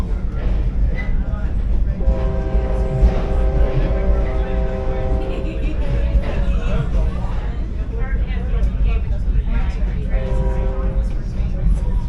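Steady rumble of a Kentucky excursion train rolling along old Louisville and Nashville Railroad lines, with a sustained horn-like tone sounding twice over the continuous noise and people talking in the background.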